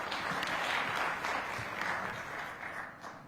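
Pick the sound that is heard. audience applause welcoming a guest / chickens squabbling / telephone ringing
audience applause welcoming a guest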